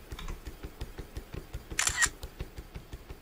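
A camera shutter firing for a mirror selfie in the video game Gym or Jail, a single bright burst of clicks heard over a steady low rhythmic thumping of game audio.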